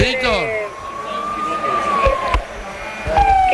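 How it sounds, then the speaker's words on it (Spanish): An ambulance siren wails and sweeps in pitch as it pulls away from a football stadium during an Olimpia versus Cerro Porteño match in Paraguay, loud over traffic and crowd noise. "se encendieron las sirenas y a toda velocidad"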